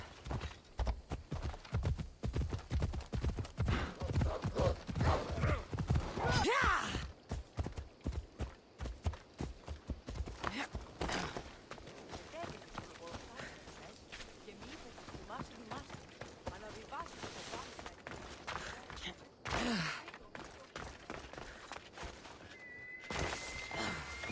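Horse galloping in Assassin's Creed Odyssey, with fast rhythmic hoofbeats loud at first, then slowing to lighter clip-clop steps under game dialogue and ambient effects, with a whinny partway through.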